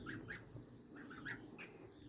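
A farm goose gives a handful of soft, nasal honks in short bursts, close but quiet against a faint background hiss.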